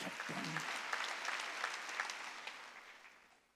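A Korean church congregation at a Wednesday worship service claps together, a fairly faint, distant patter of applause that slowly fades toward the end.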